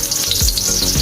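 Garlic frying in cooking oil in a pan for a Filipino guisado, a loud, close, continuous sizzle and crackle with no talking.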